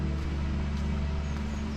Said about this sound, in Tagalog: Kilala ko kasi yung tunog ng truck niya